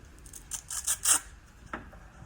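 Several short, quick rasping strokes of 80-grit sandpaper against the hard edge of a book block, followed by a pause and one last brief scrape.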